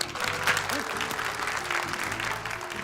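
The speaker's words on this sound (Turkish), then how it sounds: "Bir cesaret alkışı alabilir miyiz arkadaşlar?" Audience applause at a Turkish film event, a steady sustained burst of clapping from a crowd, with faint voices and tones underneath throughout.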